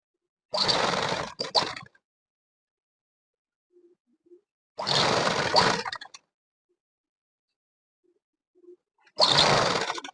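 A sewing machine top-stitches a school uniform shirt in three separate bursts of fast, buzzing stitching, each lasting a second or so. The bursts are split by quiet gaps holding only faint small sounds.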